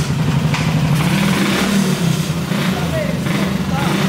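A motorcycle engine with no diffuser revs loudly and steadily up close, its rough mid-pitched drone continuous throughout, with voices talking over it.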